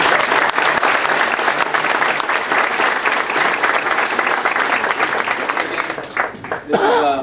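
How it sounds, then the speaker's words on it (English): A crowd gives Dave Glover a full, loud round of applause at a USO renovation event, steady throughout and easing off near the end as a voice briefly cuts in. "one more for Dave Glover for what he did"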